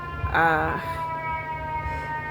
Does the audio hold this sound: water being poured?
no